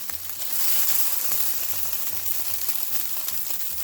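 Italian sausage sizzles and fries in a pan, a steady close crackle with a few low clanks of utensils against the pan, no voices over it.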